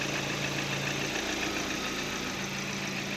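A Lada Priora engine idles with piston skirt knock, a steady mechanical hum and vibration carrying a fine, continuous tapping rattle, close and even throughout.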